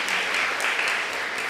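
Applause from a church congregation at a Lunar New Year thanksgiving service, a steady dense patter of many hands clapping continuously throughout.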